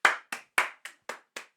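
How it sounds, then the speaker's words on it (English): Six sharp, separate hand claps ring out close and clear in an uneven rhythm, each snapping crisply and fading quickly into silence before the next. "I think that deserves some applause."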